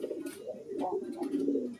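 A Giant Hungarian house pigeon gives a soft, low cooing call close by, a brief throaty coo over a faint background.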